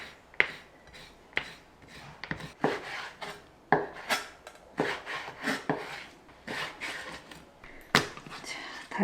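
A kitchen knife slices through peeled, previously frozen squid legs and head on a cutting board, a run of sharp close cuts and taps in an uneven rhythm, with no talking.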